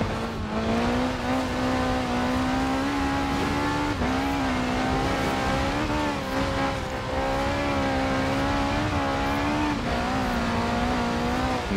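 Engine of a stock 1985 Ford RS200 Evolution, mid-engined, in Forza Horizon 4: a loud, steady engine drone held at high revs with small pitch dips at gear changes, continuous throughout with no talking.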